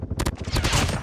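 Quick gunshots fire in Apex Legends Mobile, several sharp close cracks in fast succession followed by a denser burst of shooting, loud and with no talk over it.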